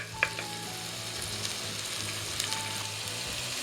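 Crushed ginger, garlic, cloves and cardamom sizzle in hot oil in a pan for a mutton curry, giving a steady close frying hiss with a few small pops and stirring clicks.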